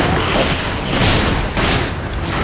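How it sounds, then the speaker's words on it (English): Gunfire rattles in a Resident Evil 5 versus match, loud bursts of shots and booms clustered in quick succession over a couple of seconds. "I can hear gunfire."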